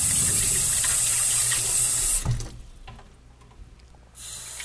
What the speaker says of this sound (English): I'm going to fill the spin clean record washer with lukewarm water up to the fill line here